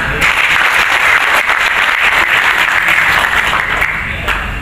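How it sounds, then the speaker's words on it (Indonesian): A large crowd applauds steadily and loudly throughout, a dense wash of clapping that fades slightly toward the end. "Tepuk tangan dulu"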